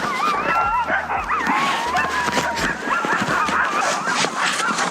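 Sled dogs on a long dog sledding trip bark, yip and whimper excitedly in a constant chaotic chorus, close and loud, with people talking among them.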